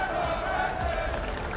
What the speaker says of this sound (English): You can hear the chants in the crowd already for Twisted Minds.